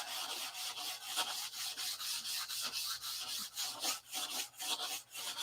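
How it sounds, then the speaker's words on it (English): Hand sanding a P-47 model airplane wing with 320 grit sandpaper, close and quiet, a steady run of rhythmic back-and-forth rasping strokes, each a short scratchy swipe with brief pauses between. "This is 320 I'm sanding with."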